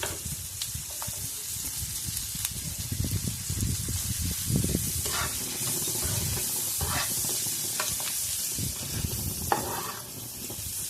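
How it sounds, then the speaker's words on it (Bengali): Cumin seeds and chopped onion sizzle and crackle in hot oil in a pan over low heat while being stirred, a steady close frying hiss with scraping stir sounds throughout. "জিরেটিকে আমি একটু ভেজে নিচ্ছি। এবার ওর উপরে আমি একে একে দিয়ে দেবো পেঁয়াজ কুচি"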